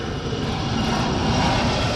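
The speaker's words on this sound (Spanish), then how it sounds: "Los dos aviones, que todavía están en desarrollo, dieron un vuelo de exhibición el martes." A Y-20 transport plane and a fighter jet, both still in development, fly a display pass at Airshow China 2014, giving a loud, continuous engine roar that holds steady throughout with no voices over it.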